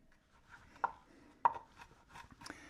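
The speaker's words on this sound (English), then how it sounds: "I'm mincing up some fresh garlic here." Fresh garlic is minced with a knife on a cutting board: a handful of crisp, separate chops land at uneven intervals against a quiet background.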